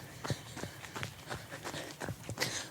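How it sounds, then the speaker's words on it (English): A steady rhythm of running footsteps, about eight quick thuds, fairly faint over light outdoor background noise. "I can hear my footsteps."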